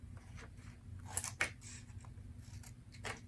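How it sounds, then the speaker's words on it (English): Scissors make two small cuts in a paper airplane to form its elevator. The result is a few faint, crisp snips close by in a quiet room. "we're going to make these 2 small cuts using our scissors"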